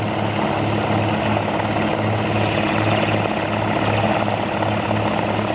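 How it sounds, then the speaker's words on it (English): A propane-powered industrial frost protection wind machine in an orange grove, its big pole-mounted fan spinning on a pivot with a steady, loud, throbbing whir and rhythmic pulsing chop, continuous throughout with no voices. "The fan on top of the pole is on a pivot. So as the fan spins, it rotates also"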